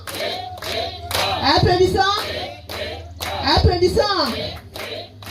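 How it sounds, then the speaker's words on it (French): Scattered hand claps ring out amid loud voices at a Congolese gathering, with a couple of bursts of shouting or cheering layered over the clapping. "Applaudissons."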